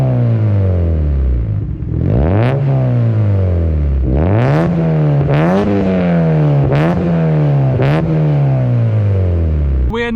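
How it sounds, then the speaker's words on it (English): A Mazda MX-5 Mk2 with a catback exhaust revs hard through several gear changes, each pull climbing in pitch before dropping, loud and close with a throaty exhaust note. "let's get a sound test now and show you what the car sounds like with a catback exhaust"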